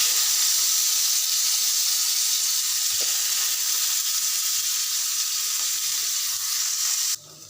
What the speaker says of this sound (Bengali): এখন আমি পেঁয়াজগুলো হালকা ভেজে নিব।